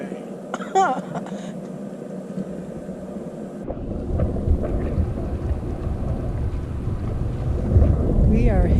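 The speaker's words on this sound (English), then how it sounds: "There was just some thunder." Thunder at Willow Springs Lake during a fishing trip: a deep, rolling rumble builds midway and continues with rain-like hiss, preceded by a voice speaking close by.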